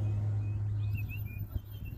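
A safari vehicle turning around on a savanna game drive in Tsavo, a steady low engine hum running close throughout with a brief bump near the end, insects whining faintly overhead.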